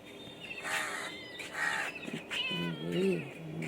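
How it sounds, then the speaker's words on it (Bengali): A cat answers a call with a run of close, drawn-out meows, rising and falling over a few seconds, with no talk over them. "চিংড়ি আমার ডাকলেই সারা দেয় সঙ্গে সঙ্গে"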